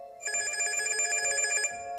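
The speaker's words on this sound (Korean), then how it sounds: "동훈의 전화였다." A telephone bell rings in a steady, continuous trill for about a second and a half, loud and close, as a sound effect within a horror story.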